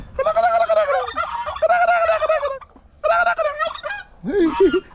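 A turkey-like fowl at an animal farm in Al-Ahsa gives loud, close gobbling calls in rapid warbling bursts, with short pauses between them.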